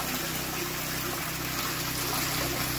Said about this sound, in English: I got plenty of water moving through.